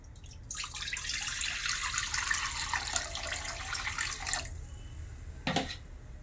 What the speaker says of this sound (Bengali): এবার আমি এঁচোড়টা সেদ্ধ করার জন্য জল দিয়ে দেবো